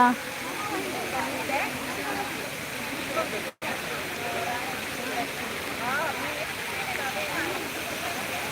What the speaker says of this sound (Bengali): দেখুন জলটা পড়ছে এখানে